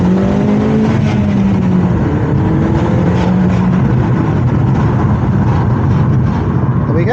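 A 2011 Mini's engine revs hard under acceleration, a loud continuous drone climbing in pitch as the car pulls away, with steady road and engine noise throughout and no talk.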